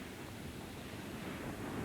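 Tidal water at the mouth of the River Rance estuary in France, a steady, faint wash of surf-like noise with some wind hiss, even and unbroken throughout.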